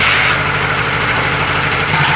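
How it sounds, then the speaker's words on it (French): A Honda 125 twin motorcycle engine runs at a steady idle close by, a loud, even low-pitched thrum with a regular pulsing beat and no speech over it. "Alors voilà, la moto tourne."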